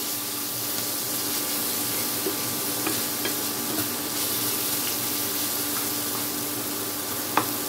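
Vegetables for spicy egg pasta frying briefly in a hot pan, giving a loud, steady sizzle with occasional faint scrapes and clicks of stirring.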